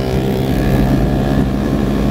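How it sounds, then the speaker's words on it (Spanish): A passing motorcycle on a rural road among coffee farms in Huila, Colombia, its steady engine drone loud and close throughout with no voices. "Es más humo el que saca que polvo la moto del señor que me acaba de pasar"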